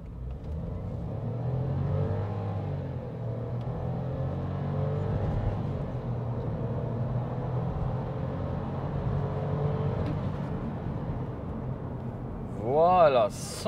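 A 2022 VW Polo accelerates hard in sport mode, its engine droning and rising under the cabin rumble over several seconds, with a person talking over the engine noise inside the car.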